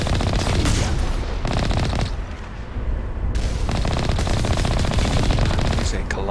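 Automated turrets in the video game Mass Effect fire loud, sustained rapid bursts of gunfire with a brief lull in the middle before the shooting resumes, dense and close.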